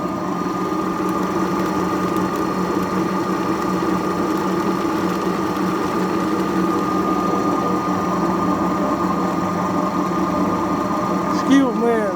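A GKM-200 pellet mill produces a steady mechanical drone with a constant low hum and whirring harmonics throughout, grinding feed pellets continuously at close range.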